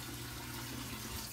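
Water runs from a tap in a steady, close, continuous hiss and splash, with no breaks and no voices.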